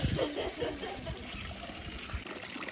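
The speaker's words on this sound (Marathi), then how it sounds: "हे पाणी आहे हे डायरेक्ट वरतून नदीतून येत आहे नेहमी चालू असतं" River water piped to a Konkan village house runs continuously, a soft steady splashing trickle nearby with faint low gurgles.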